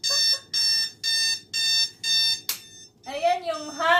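A digital alarm clock rings loudly and close by in five rapid electronic beeping bursts, then a voice speaks over the fading sound.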